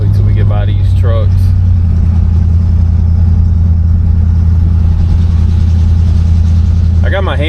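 A 1964 Cadillac Deville convertible's engine drones steadily and loud while driving, a constant low hum throughout, with someone talking over it at the start and end.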